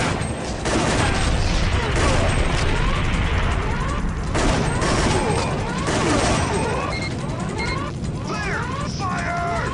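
Gunfire from the arcade shooter Time Crisis: a constant barrage of loud shots with mechanical clatter runs the whole time under overlapping game voices and effects.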